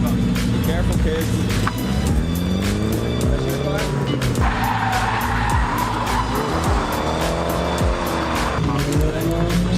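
Nissan 240 drifting with sustained loud tire squeal and skidding over a roaring engine, near and continuous with a few sharp squeal bursts.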